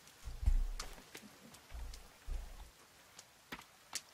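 Rain falls in the video game The Forest, a faint, steady patter with scattered sharp drops and a few low soft thumps, all heard alone without voices.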